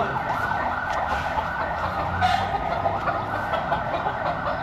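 Many small chicks chirp continuously at a poultry farm, a dense, steady high twittering that stays close and fills the whole stretch without pause.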